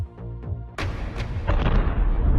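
A sudden loud blast bursts out at Turkey's biggest defence company, followed by harsh, crackling gunfire and rumbling booms that keep going close by.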